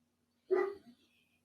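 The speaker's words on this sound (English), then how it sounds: "I don't know if you hear him barking" A single short bark from a small dog, close by, ending in a brief softer yelp, with quiet all around.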